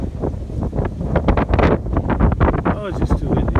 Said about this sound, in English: Oh, it's just too windy.